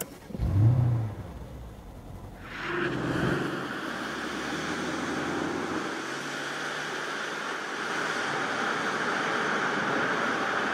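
Mercedes S-Class Coupé S500 engine turning over and settling into a smooth idle heard from inside the cabin, a low rumble with a brief rev near the start, fairly quiet.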